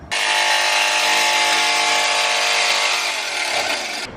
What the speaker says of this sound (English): Even though I only have wood blades, it still works.